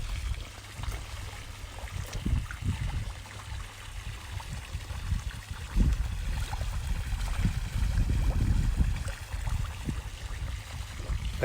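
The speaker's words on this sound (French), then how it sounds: "La cascade est en route parce que j'ai un petit problème de pompe à air." Garden pond waterfall running, a continuous close trickling and splashing of water spilling into the pond, fairly soft and steady with slight surges, no voices.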